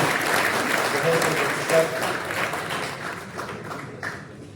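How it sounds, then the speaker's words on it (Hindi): An audience at the Bihar Pratibha Samman Samaroh ceremony claps to welcome civil service selectees, a full, continuous round of applause that gradually thins toward the end, with scattered sharper claps rising out of it. "तालियों से स्वागत कीजिए"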